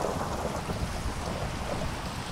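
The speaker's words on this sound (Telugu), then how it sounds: "ఒరే ఒరే నాయన, ఇది వాన లేకపోతే ఇంకేంది." Heavy rain and a rumbling thunderstorm from the video game Dragons Alive, a dense, steady roar of downpour with low thunder rolling underneath, loud and continuous with no talk.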